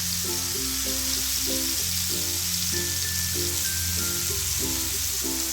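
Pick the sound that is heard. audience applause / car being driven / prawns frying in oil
prawns frying in oil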